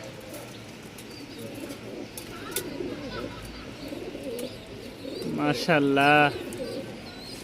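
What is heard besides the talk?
pigeons cooing at Mirpur pigeon market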